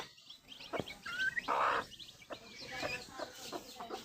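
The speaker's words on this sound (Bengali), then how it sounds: "ওর মা ডাক কইরা খাওয়াইতেছে" A mother hen clucks in short, repeated calls nearby, calling her chicks to feed, with chicks peeping softly around her as they eat broken rice.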